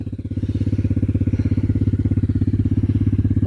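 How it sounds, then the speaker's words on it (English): Loud quad ATV driving across grazing land, its engine a close, rough, rapidly pulsing low rumble that stays steady throughout. "I hope you can still hear me as I'm driving, because it's a loud quad"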